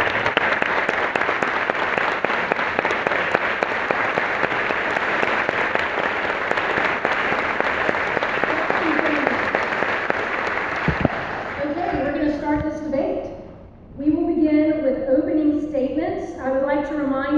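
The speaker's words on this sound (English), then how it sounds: "I would like to remind the audience to please hold your applause until the conclusion of the debate" An audience at a televised political debate applauds as candidates are welcomed onstage, loud sustained clapping that fades after about eleven seconds, followed by someone speaking.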